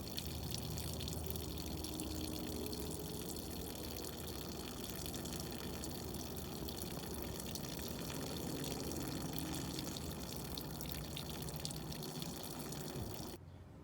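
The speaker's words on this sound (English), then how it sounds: "And now we're just going to wait till everything drains out, and we're going to come back to it." Water drains out of a Safari Condo F1743 camper trailer's plumbing during winterization, a steady, faint trickling rush with light dripping that continues evenly for many seconds before cutting off abruptly.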